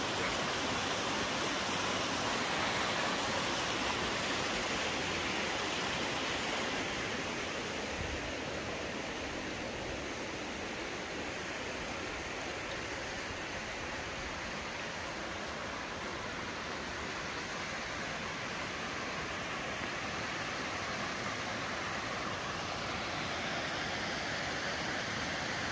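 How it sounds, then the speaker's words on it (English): Waterfall beside a dam with stone walls on a schist house property in central Portugal, a steady broadband rush of falling water, continuous and fairly close, with no voices. "our waterfall's amazing"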